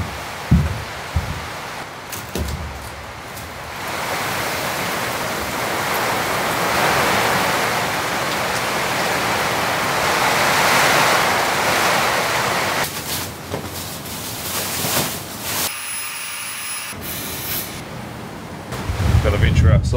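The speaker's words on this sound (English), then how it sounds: "Man, that rain. It's relentless." Heavy, relentless rain pours onto a remote cabin as a dense, continuous hiss that swells and eases, broken by a few knocks and brief quiet gaps; a voice is heard briefly.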